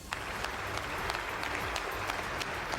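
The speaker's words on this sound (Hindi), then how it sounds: "वहां मौजूद सांसदों ने खड़े होकर तालियां बजाकर उन्हें बोलने के लिए आमंत्रित किया" Ukrainian members of parliament stand and clap in the chamber, a broad, even wash of applause heard at a moderate distance throughout.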